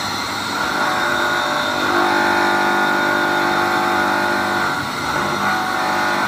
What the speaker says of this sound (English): I'm applying a load on the electric motor.